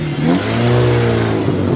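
A car engine being broken in revs up and down, a loud close mid-pitched roar that rises, holds and eases in tone, alone with no talking.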